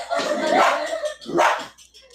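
A person imitates a dog with two loud, hoarse bark-like yelps, close and separated by a short pause.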